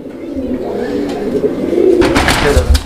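A pigeon held for sale coos softly, with a low murmuring call that swells toward the end amid faint background noise and no speech.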